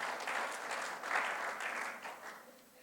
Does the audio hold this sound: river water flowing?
no